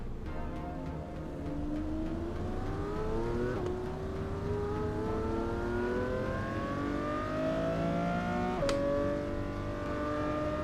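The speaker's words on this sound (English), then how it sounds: "This car is a fun car to drive here." Video game car driving along with its engine revving up in repeated rising sweeps, gear changes breaking each climb, the whine steady and close with no talk over it.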